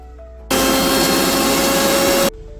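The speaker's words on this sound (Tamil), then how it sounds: "அதுக்கு ஃபஸ்ட்டு நம்ம ஒரு மூணு பீஸ் தேங்காய் அரைச்சிடலாம் அது கூட வந்துட்டு பூண்டு ஒரு ரெண்டு பல் கொஞ்சமாக சீரகம் அப்புறம் ஒரு பச்சை மிளகா" A mixer grinder grinds coconut pieces, garlic cloves, cumin and a green chilli, a loud steady whirring roar that starts abruptly, runs for about two seconds and stops, with quiet room noise before and after.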